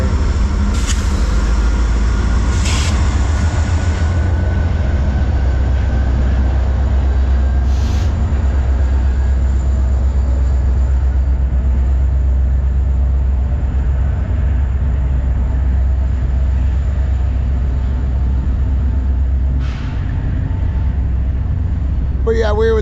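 A deep, steady rumble of a train rolling on rails, with people talking nearby.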